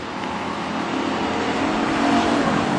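Pure stock race cars roar past on the Granite City Speedway oval, a continuous engine drone that swells toward the end as the cars close in, heard from the stands with no talk over it.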